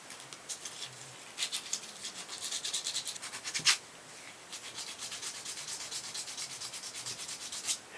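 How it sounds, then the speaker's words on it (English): Hard modeling clay for a jewellery stand sculpture is sanded by hand, giving close, faint scratchy rubbing strokes in an uneven rhythm, with one sharper scrape midway and no talking. "This modeling clay is pretty hard to sand"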